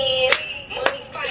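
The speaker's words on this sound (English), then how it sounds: "Oh, this clap? It's right there." Two crisp hand claps in a TikTok dance routine land about half a second apart, with a fainter third near the end, over quiet background music.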